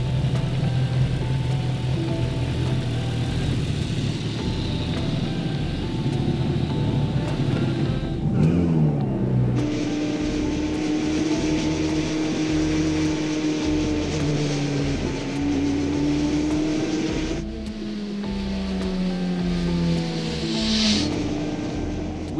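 BAC Mono lightweight sports car pulling away, engine note climbing through a few gear changes with a steady drone between shifts, close and fairly loud, no voices.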